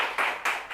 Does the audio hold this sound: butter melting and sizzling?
no